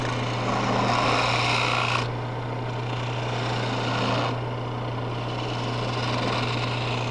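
A lathe gouge shaving a spinning wooden baluster gives a steady, close rasping whir over a constant motor hum, with the cutting noise easing off partway and then returning.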